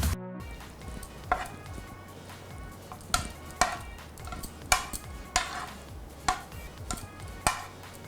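Pieces of egg tip into hot tempering oil for egg avakaya pickle, a sharp clatter at the start followed by frying and a run of rhythmic stirring scrapes, close and loud.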